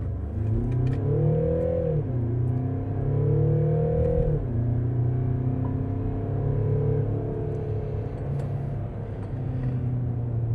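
A Mercedes V-Class Extra LWB V300d diesel van pulls away in sport mode, its engine note steadily rising in pitch through two gear changes, then settling into a smooth, even drone from inside the cabin.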